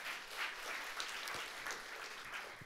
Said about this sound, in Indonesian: kita beri tepuk tangan untuk Tuhan